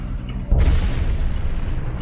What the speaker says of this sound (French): C'était une explosion vraiment puissante et étonnante.